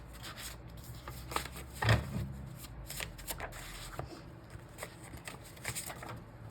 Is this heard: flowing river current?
no